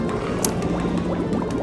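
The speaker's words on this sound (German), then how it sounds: "So, hier gibt es einen Lava-Fall." Lava fall in Paper Mario bubbles and gurgles in a continuous, fairly loud churn with small popping blips throughout.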